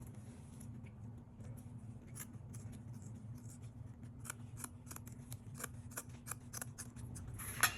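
Scissors cutting ribbon for a wreath bow, a series of faint, crisp snips that speed up toward the end over a quiet low hum, close by.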